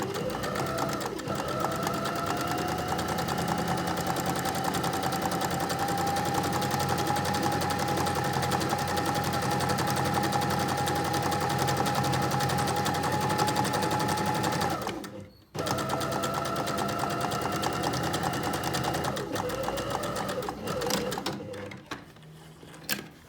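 A sewing machine edge stitches down both sides of a tote bag handle, running in one long steady buzzing burst, pausing briefly, then starting again close and loud.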